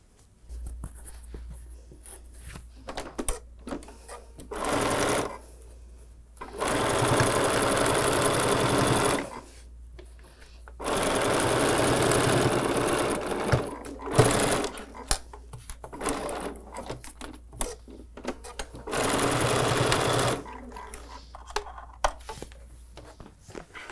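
Sewing machine joining quilt block pieces for an acorn table runner, whirring in four separate runs of a few seconds each with short pauses and soft fabric handling between them.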